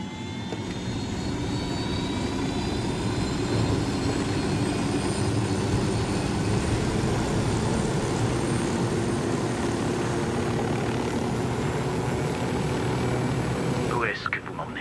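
An aircraft flying in the video game Ghost Recon Wildlands, a loud continuous engine drone with steady whining tones running throughout, under voices speaking.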